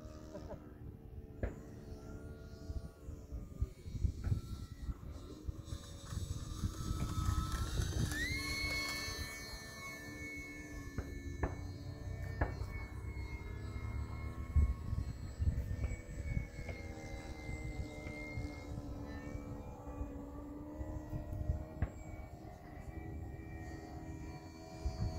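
An E-flite UMX Timber small electric RC plane fitted with floats flies a touch and go, its motor whine rising and falling in pitch as it passes, steady and fairly close against outdoor background noise.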